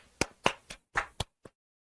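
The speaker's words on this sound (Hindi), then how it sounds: "पीट दो ताली बे" A few people in a percentage class clap about six sharp, separate times, spaced unevenly and fading toward the end, with no talk.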